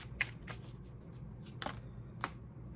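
Tarot cards shuffled by hand, heard as a few quiet riffling snaps spaced across a hushed room, soft and close with no talking.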